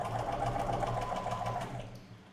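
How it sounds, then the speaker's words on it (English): A longarm quilting machine stitches a fabric piece down with a loud, steady, fast mechanical hum and needle chatter that tapers off at the end. "And we are going to stitch this down to hold it in place."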